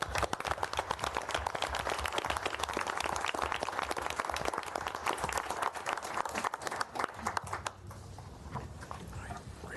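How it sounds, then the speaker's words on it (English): A round of applause at a board of commissioners meeting: dense, steady clapping from a room of people that runs for several seconds, then thins out and fades near the end. "they all deserve a round of applause"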